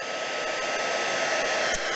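A craft heat tool blows with a steady, loud whooshing hiss of hot air, running continuously at close range.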